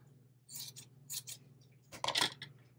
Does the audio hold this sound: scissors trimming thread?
yes